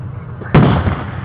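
A single firework blast from a nighttime display in Oregon booms loudly and close, a sudden broad crack that trails into a rumbling echo.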